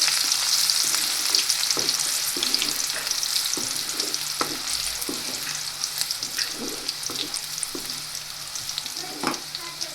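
Chopped onion with cumin seeds fries steadily in hot oil for a Gujarati ratlami sev curry, a continuous near sizzle with regular spoon-stirring clicks and scrapes, no voices.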